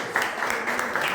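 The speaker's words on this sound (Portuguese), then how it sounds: "E graças a Deus, aplauda o nome do Senhor Jesus." A church congregation gives a short burst of applause, moderately loud, with a faint voice underneath.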